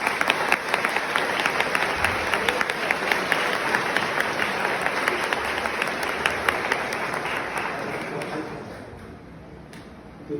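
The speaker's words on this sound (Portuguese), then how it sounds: "Uma salva de palmas a ele." A church congregation at a send-off Mass applauds for a young man entering seminary, steady dense clapping close by that fades out near the end.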